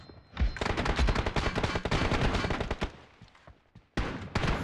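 Rapid bursts of automatic gunfire ring out in a shooter video game, with dense rattling volleys that fade briefly before another loud burst starts.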